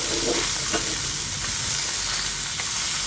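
Small fresh river fish frying in hot oil as they are flipped over in the pan, a steady close sizzle with soft stirring and scraping throughout.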